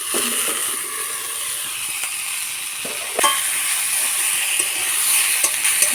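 Fish sizzles steadily in a hot pan with salt and turmeric as it fries for a fish and cauliflower village dish. The hiss is close and constant, with a few faint clinks and stirring sounds.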